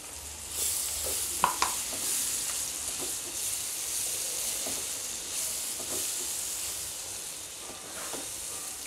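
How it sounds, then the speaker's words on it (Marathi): Tomato puree fries in oil and masala for a garlic methi curry, giving a steady, close sizzling hiss with a few faint stirring knocks. "तेल सुटेपर्यंत याला भाजून घेणार."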